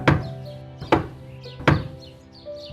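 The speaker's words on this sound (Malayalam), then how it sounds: "അവരുടെ വാതിലിൽ ഒരു മുട്ടൽ കേട്ടു." Three firm knocks on a door in an animated Malayalam fairy tale, evenly spaced about a second apart. Each knock is close, loud and resonant, with faint bird-like chirps between them.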